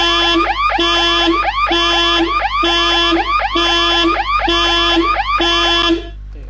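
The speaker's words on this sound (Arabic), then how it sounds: "اي شخص يتقرب من هذا الكيس يصير صوت انذار" A looping electronic alarm set off by surveillance camera software when someone approaches a bag, repeating a rising, warbling siren-like tone about every seven-tenths of a second, loud and steady, stopping abruptly near the end.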